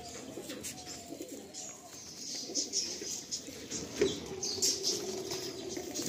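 Kashmiri doma pigeon in moult, kept in a loft, with bursts of wing flapping and soft rustling over a steady background hum, with occasional faint coos and a voice talking briefly.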